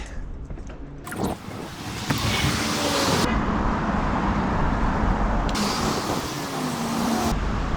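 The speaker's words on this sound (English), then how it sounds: "When I'm negotiating the traffic, I stop talking, don't I?" Steady road traffic rumbles around a bicycle rider in town, with continuous engine and tire noise that swells as vehicles pass close by, and no talk.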